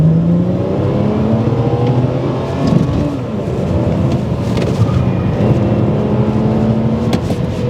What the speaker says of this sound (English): Feel the sheer torque of the Ford Australia Barra engine.